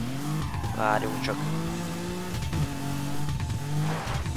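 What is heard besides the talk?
car driving in the video game Burnout Paradise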